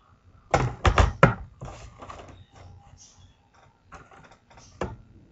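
Scrapbook paper sliced in half on a blade trimmer, a few sharp clustered clacks and a scraping slide close up, followed by quieter taps with short pauses between.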